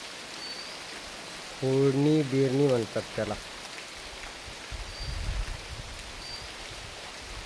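Steady rain falls during rice sowing in the Konkan countryside, a constant close hiss of drops on surfaces throughout, with a person speaking briefly over it.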